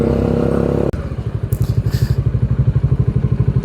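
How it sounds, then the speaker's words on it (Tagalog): A motorcycle fitted with a new muffler idles after an abrupt cut from louder music, the exhaust giving a close, rapid, rhythmic putter of even pulses with brief metallic clatter over it. "May bagong muffler si Nakoya."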